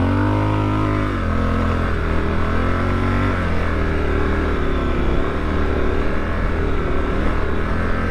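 A 2023 Triumph Scrambler 1200XE motorcycle revs hard in deep sand, its engine a loud, close, sustained drone that climbs in pitch as it accelerates, with no voices over it.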